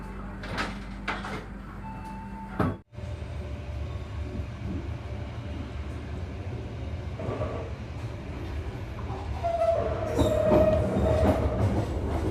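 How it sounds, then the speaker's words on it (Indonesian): Passenger train hauled by a CC201 diesel locomotive on the Sawunggalih executive service from Kutoarjo to Pasar Senen, heard from inside a carriage as a steady rumble with rhythmic wheel clatter, metallic squeals and a brief door thump. "Ini lokomotif dinasnya CC201-8321."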